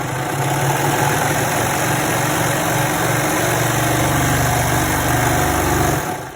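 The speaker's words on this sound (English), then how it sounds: "now I'm going to sew a 3-thread overlock" An overlock serger machine runs continuously while sewing a 3-thread overlock stitch, a loud, steady motorized whir with a fast rhythmic chatter that holds for about six seconds before stopping, with no talk over it.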